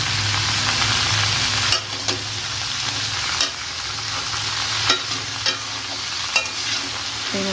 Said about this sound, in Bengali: লবণ হলুদ দেবো জিরে দেবো দিয়ে ভালো করে কষিয়ে নেব